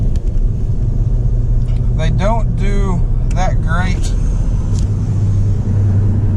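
Toyo RTS tires on a pickup truck give a low, continuous road rumble while driving, steady throughout, with a person talking over it.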